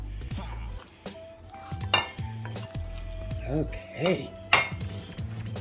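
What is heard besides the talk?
potatoes being put into a dish bowl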